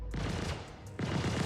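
Star Citizen turret guns fire in the space game, heard as two short, dense bursts of rattling gunfire back to back, loud and close.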